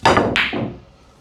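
A pool cue strikes balls during shot practice, giving two sharp clacks in quick succession, close and crisp, each fading fast in a quiet room.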